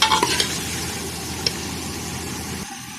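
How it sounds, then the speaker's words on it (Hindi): Garlic ginger paste frying in oil in a pot for aloo gosht, a steady close sizzle with stirring scrapes, one sharper clack near the middle, cutting off abruptly at the end. "इसकी मैं 3 से 4 मिनट इसमें भुनाई करूंगी इसके साथ।"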